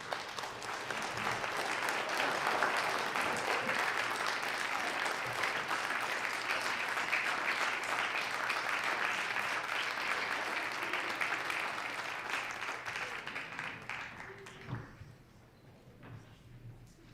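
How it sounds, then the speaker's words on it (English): Applause fills a state senate chamber, a long, steady wash of clapping that swells, holds for over ten seconds, then fades out to quiet. "Please stand and applaud for these amazing young men"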